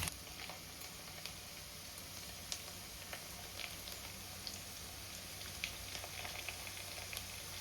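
Spices and ingredients sauté quietly in a pan for a fish curry, giving a faint, steady bubbling sizzle broken by scattered soft pops and spits, with no talking.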